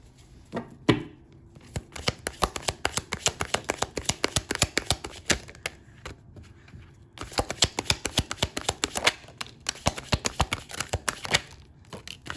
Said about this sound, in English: So let's go ahead and pull more cards and elaborate further.